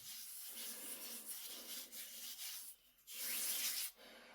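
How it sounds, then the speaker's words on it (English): Flour-dusted hands rubbing together while making bannock bread at a wild camp, giving a close, dry, papery swishing that runs in steady strokes and swells to a louder burst near the end. "rub it into the back of the hand"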